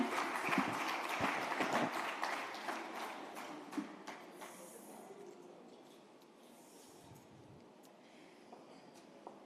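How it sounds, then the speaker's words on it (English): Summit audience applause: many hands clap in a dense, steady patter at first, then thin out and fade to scattered claps and quiet. "A round of applause for them, please,"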